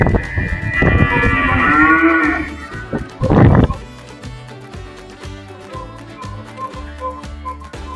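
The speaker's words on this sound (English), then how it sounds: "Cull cows loaded and away." Loud, drawn-out cull cow moos up close as they are loaded onto a lorry, one long call followed by a shorter one, then clanking metal and livestock shuffling in the background.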